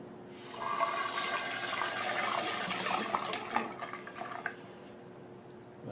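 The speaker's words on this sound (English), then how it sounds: "So I'm going to turn on the hot water." Hot water gushes from a freshly repaired bathroom sink faucet, a steady close splashing stream that starts after a brief moment and continues with some sputtering, quieting toward the end.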